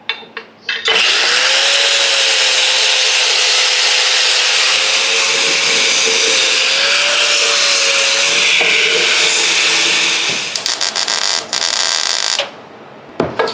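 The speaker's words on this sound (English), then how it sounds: "I'm gonna grind the dirt off because dirt doesn't weld" Angle grinder scrubbing dirt off a car exhaust pipe on a modified ML55 AMG, a loud, steady high-pitched whine running continuously for about ten seconds, then stopping and restarting briefly.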